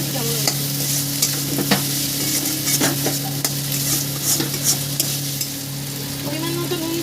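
Chicken mocha with tomato and split green chillies being stirred in a pan, a steady close sizzle of frying under repeated scraping strokes of a spoon, with no talk.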